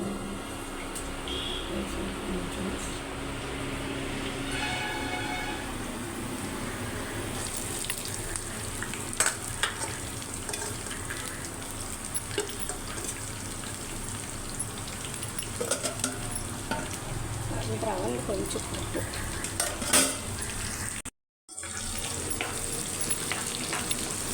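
Tempering spices fry in hot oil in a pan, giving a continuous loud sizzle with occasional stirring scrapes and no one speaking.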